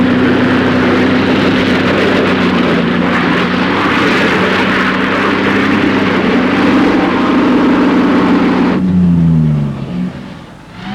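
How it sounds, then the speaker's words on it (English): Range Rover V8 engines labouring up a hill off-road, with a loud, sustained droning roar that holds steady for several seconds, then drops sharply in pitch and fades away near the end. "their V8 engines normally got them up hills a good deal faster than this."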